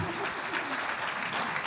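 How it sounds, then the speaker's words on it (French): Audience applause at an awards ceremony for regional innovation trophies, a steady dense wash of many hands clapping continuously throughout, moderately loud with no voices over it. "un grand applaudissement, je crois, pour cette initiative"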